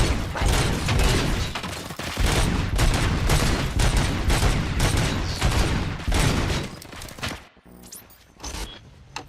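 Sustained gunfire in the video game RoboCop Rogue City: dense, loud volleys of rapid shots fire almost continuously for several seconds, then thin out into a few scattered reports near the end.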